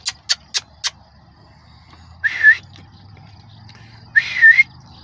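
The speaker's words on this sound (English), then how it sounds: "Man, I can't even whistle." Four quick sharp clicks, then two short breathy whistle attempts, a pause between them, in an otherwise quiet outdoor setting.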